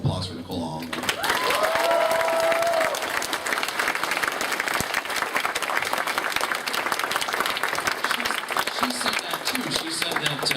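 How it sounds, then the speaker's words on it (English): Audience applause and some cheering fill a hall at a voice actor convention panel, a dense sustained clapping that swells after a second and carries steadily to the end, with a brief whistle or vocal tone early on. "get a round of applause for Nicole Oliver"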